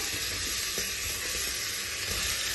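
Chopped tomatoes sizzle loudly in hot oil with frying onion and garlic for tomato soup, a steady dense crackling hiss with a faint stir.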